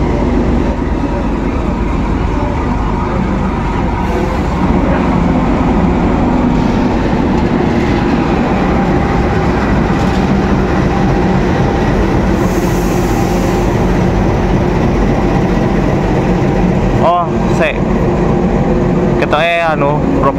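A locomotive-hauled Ijen Ekspres train in Indonesia rumbles steadily and loudly close by, with constant clattering wheel noise and a couple of brief squeals near the end.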